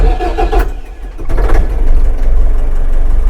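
A Scout TU-404S mini tractor with a cab fires up from cold in neutral, giving a short crank and catch, then settling into a loud, even idle close by.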